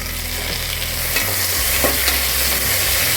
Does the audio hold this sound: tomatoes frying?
yes